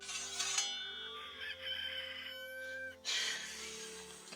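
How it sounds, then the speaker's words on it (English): A rooster crows loudly and close, used as a chicken sound effect for film, with drawn-out tonal calls and a few clucks across a short span, no talking. "Chicken sweetener."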